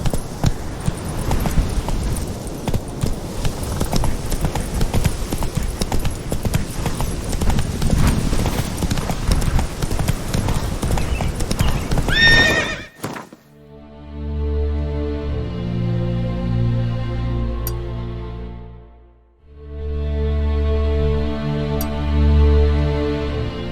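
Roach the horse gallops with rapid clip-clop hoofbeats in The Witcher 3, then switches to a loud, close, drawn-out neighing and snorting whinny that rises twice, with no talking.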